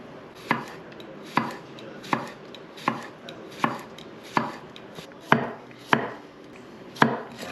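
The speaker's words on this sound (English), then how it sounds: "We're gonna slice it up very thin." A knife thinly slices a cucumber on a cutting board for a panzanella bread and tomato salad, with about a dozen evenly spaced, crisp chops hitting the board close up and no talking.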